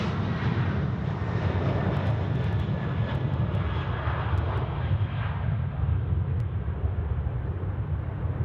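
Finnair jet airliner at Sydney Airport, a steady deep engine rumble and broad roar from a moderate distance, sustained without a break and with no talking.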